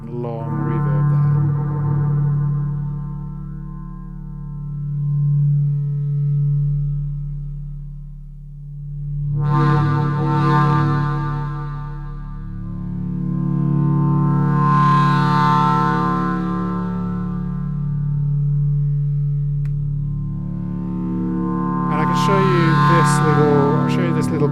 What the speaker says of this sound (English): you've got a really kind of deep and long reverb there